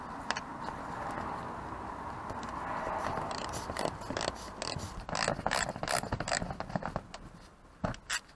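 A ratchet with an 8mm socket backs out the undercover screws beneath a Mazda CX-5, first a steady whirring spin, then rapid close clicking bursts that turn choppy and intermittent toward the end, with no talking.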